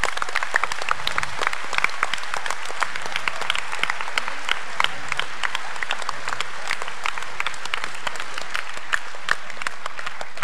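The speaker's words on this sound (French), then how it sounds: "je vous demande de les applaudir très fort tous." Audience at a youth astronomy festival in the Gers applauds amateur radio operators after an ISS radio contact, a steady wash of many hands clapping close by, sustained for about ten seconds.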